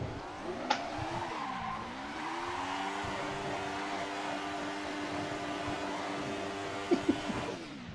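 Race car in a DTM round at Donington Park in a sim racing game, spinning a sloppy donut: the engine note rises and falls over sustained tire squeal, with a couple of sharp knocks near the start and end.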